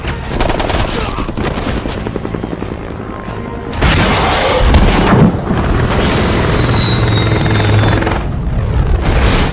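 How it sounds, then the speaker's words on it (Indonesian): A helicopter thrums under a dense film action soundtrack, with rapid gunfire rattling and a heavy boom bursting out midway as a bazooka hits it, loud and chaotic throughout. "Nick dengan basoka di tangannya membidik helikopter tepat sasaran."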